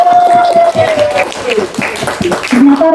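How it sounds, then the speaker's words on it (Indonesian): Children in a Ramadan short-course class at a special-needs school clap briefly in scattered bursts. The clapping sits close under a loud adult voice that talks over it throughout. "Bagus, Renaldi, kasih tepuk tangan dulu."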